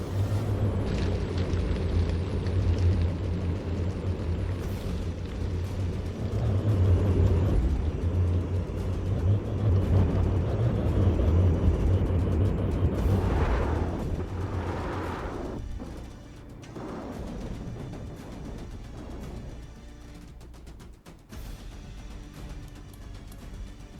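In a video game naval battle, missiles strike a vessel, giving a loud, continuous rumbling barrage of blasts and booms that fades to sparser, quieter impacts near the end.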